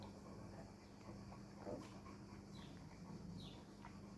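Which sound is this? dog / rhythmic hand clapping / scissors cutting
dog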